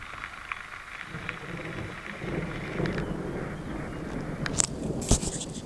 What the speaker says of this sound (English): it started raining it is thundering